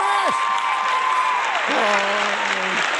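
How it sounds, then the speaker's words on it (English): A studio audience applauds steadily as a guest is welcomed, dense clapping throughout with tonal sounds sliding across it and a voice briefly heard. "Crowd goes wild."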